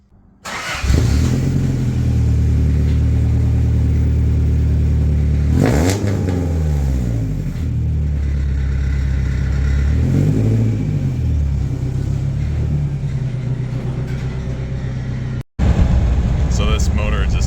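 Toyota pickup truck with a 2.7L 3RZ engine starting and driving, a steady loud engine drone with rising and falling revs through gear changes.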